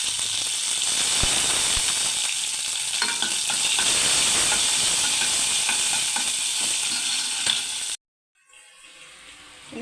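Curry leaves and chillies sizzle loudly in hot oil with the flame turned off for a pineapple pulissery tempering. A bright, steady hiss with small pops lasts about eight seconds, then cuts off abruptly.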